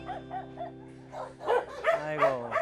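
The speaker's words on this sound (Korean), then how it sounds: "다른 강아지들이 짖으니까" Several dogs barking at an animal shelter crowded with more than two hundred abandoned dogs, a run of short yips and barks rising into louder overlapping bursts and whines, fairly close.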